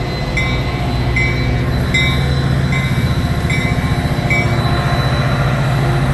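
Loud Chicago Blue Line metro train rumbling past close by at Jefferson Park, wheels clattering rhythmically over the rails with a few faint metallic squeals above the roar.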